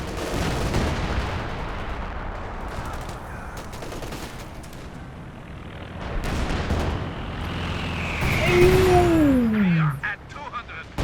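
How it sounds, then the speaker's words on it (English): Company of Heroes 2 battle with booming explosions and gunfire, including a frag bomb blast, rumbling under a commentator's voice, with a descending whistle-like tone sweeping down near the end. "That was a frag bomb."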